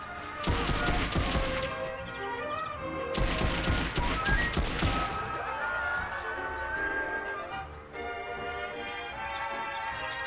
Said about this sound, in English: The pistol sounds different.